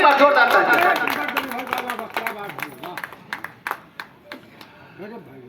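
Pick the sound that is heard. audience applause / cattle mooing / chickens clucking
audience applause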